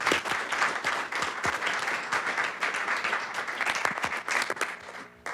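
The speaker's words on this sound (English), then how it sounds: "I just wanted to suggest a round of applause for all of those communities." Board meeting audience applauding member communities, a steady round of clapping with distinct sharp individual claps, continuing for about five seconds before tapering at the end.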